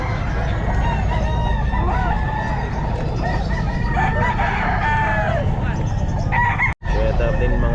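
Sweater gamefowl roosters crow repeatedly at a busy pet market, several overlapping calls and clucks over a constant crowd murmur, with a brief dropout near the end.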